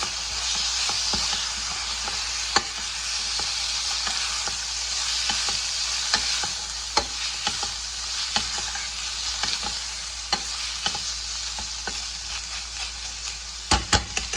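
Ginger garlic paste fries in a pan with onions, giving a continuous sizzling hiss broken by frequent sharp pops and crackles. A louder burst of spatters comes near the end, with no voices.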